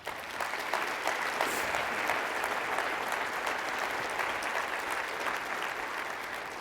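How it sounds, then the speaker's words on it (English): Audience in a lecture room applauding students, sustained full clapping from a sizable crowd that holds steady in level from start to finish, without speech over it. "Can we have a round of applause for the students?"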